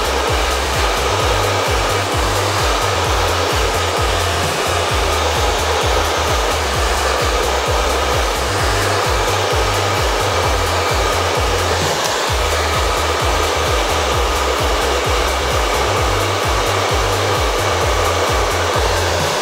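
A hair dryer blows steadily and loudly at close range while hair at the crown is lifted and straightened, its airflow roar continuous with slight fluctuations in tone.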